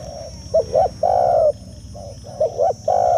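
A spotted dove coos in repeated soft, hollow phrases, close and clear, with short pauses between calls over a quiet background.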